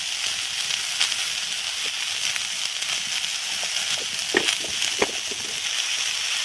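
Cauliflower florets sizzle in a pan, a steady, fairly loud frying hiss with scattered pops and crackles that never lets up.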